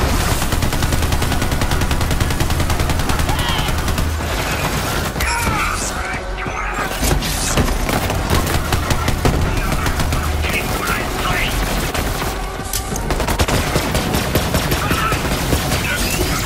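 Rapid gunfire from a favourite weapon in the Borderlands 3 video game, loud and dense bursts running almost continuously with brief lulls, mixed with game effects.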